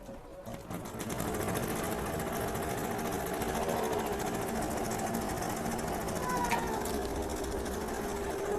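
An embroidery machine stitches a blouse design, a fast, steady mechanical rattling that starts up after a second and runs evenly at close range with a constant rhythmic whir.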